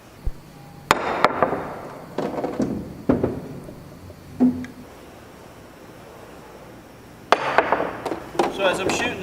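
Billiard cue ball jump shots over a piece of chalk toward the side pocket: several sharp cracking strikes and clacks spaced a few seconds apart, with ball rattles and rolling between, in a quiet room.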